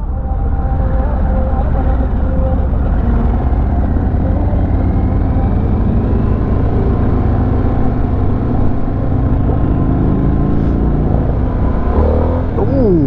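A 2022 Harley-Davidson Sportster S accelerates hard on a demo ride at Daytona Bike Week, its loud engine roaring and climbing steadily with wind rush, close and continuous from start to finish.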